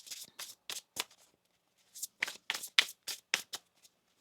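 Tarot cards are shuffled by hand in quick bursts of crisp riffling and flicking, two clusters of sharp papery snaps separated by a short pause, close and clear.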